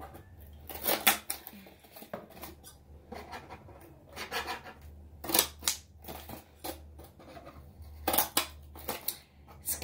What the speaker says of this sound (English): We're just going to chop off these little corner pieces here.